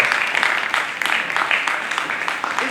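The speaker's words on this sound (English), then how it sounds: "So give yourself a round of applause" Students at a plastic-waste challenge finale at the University of Lagos give themselves a round of applause, a steady, fairly loud burst of many hands clapping in a large hall, with faint voices underneath.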